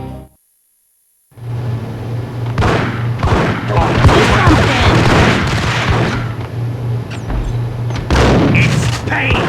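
A flurry of gunshots rings out in Max Payne on PS2 after a short silence. The loud, irregular bursts crack over a steady low hum and game ambience, with a heavier blast near the end.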